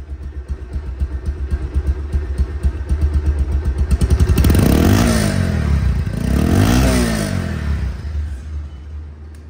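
A 2024 Bajaj Pulsar double disc ABS motorcycle idles with a steady rapid thump, then is revved twice, the engine climbing and falling in two loud swells before settling back.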